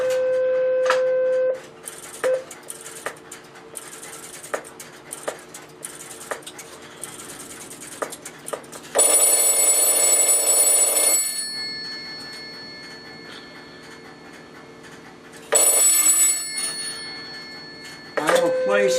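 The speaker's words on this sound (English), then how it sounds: "This is a North Electric telephone that's mounted in my North Electric system, so I will call that number and it will be ringing it at 20 hertz" An antique North Electric telephone rings on a 20-hertz ring signal, giving two loud, harsh metallic bell bursts of about two seconds each with a long pause between them. Softer taps and handling noises come before the rings.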